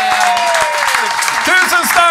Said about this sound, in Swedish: Stor applåd till Presens Improv!